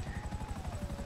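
Steady rhythmic chopping of a helicopter rotor in the video game GTA 5 Online, a fast low thump continuing throughout with a faint whine above.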